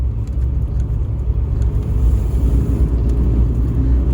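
A large vehicle rumbles past on a curving mountain road, a loud, steady, low engine drone close by that swells slightly toward the end, with no talking.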